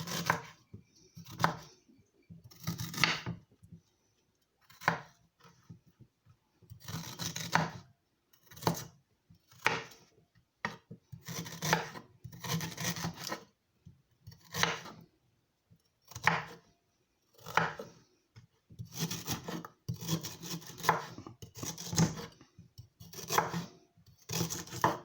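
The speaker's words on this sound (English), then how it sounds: "I am going to cut up my ginger in small pieces." Knife chopping ginger into small pieces on a board, a steady run of close, crisp cuts in quick bursts with short pauses between them.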